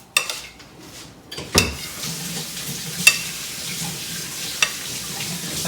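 Olives and garlic tossed together in a bowl, giving scattered clinks and scrapes over a soft, steady background hiss, with a few sharper knocks standing out.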